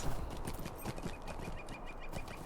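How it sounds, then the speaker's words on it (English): Horse hooves clip-clopping at a steady walking rhythm in the online fantasy game Lord of the Rings Online, a continuous run of hoof falls, moderately near, over game ambience with no talk. "I have fit a new shoe to Cyrodiil's horse."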